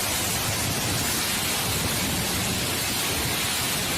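Heavy rain pours down during a storm in Turin, a dense, steady hiss that holds at the same loud level from start to finish with no voices.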